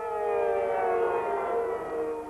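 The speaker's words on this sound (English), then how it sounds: "woken instead by the daunting sound of air raid sirens amid fears of Iraqi retaliation" A civil defense air raid siren wails steadily over a city at night, loud and sustained, with no voices.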